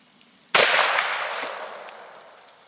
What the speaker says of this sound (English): he's going to shoot the jug on the right